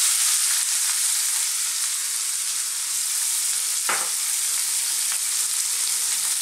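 Hot oil sizzles loudly and steadily in a pan while an Indian masala seafood and fish curry is cooked. A single soft clunk breaks the continuous frying hiss partway through.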